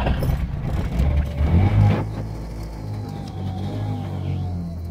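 A Trabant 601 Kombi's engine runs close by, a loud low rumble with rising revs early on, then settling into a steady droning idle with mechanical rattles.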